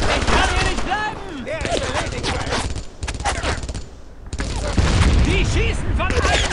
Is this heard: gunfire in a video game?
yes